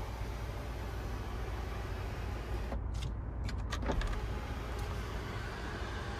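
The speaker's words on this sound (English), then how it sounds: "hit it a second time, we can slide that roof all the way back" Power sunroof on a 2019 Mercedes-Benz GLS 63 AMG with a 5.5-litre twin-turbo engine, sliding back with a brief electric motor whir that rises over steady cabin and road noise, then fades.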